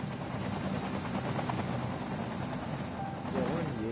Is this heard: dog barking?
no